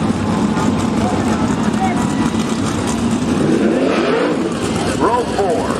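Sprint cars racing at Willamette Speedway with loud engines droning and rising and falling as they pass, under a continuous announcer's voice over the track speakers.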